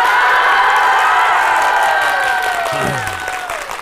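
Live audience at a comic storytelling show breaking into loud, dense applause with some cheering and whoops, the clapping gradually thinning toward the end.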